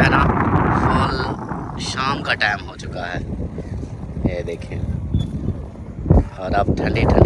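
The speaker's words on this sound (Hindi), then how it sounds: "और अब ठंडी ठंडी हवा चल रही है।" A cool evening wind blows across the Cholistan desert, buffeting the microphone as a steady low roar while someone talks over it and other voices sound faintly in the background.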